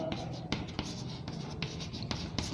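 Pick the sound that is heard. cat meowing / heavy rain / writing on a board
writing on a board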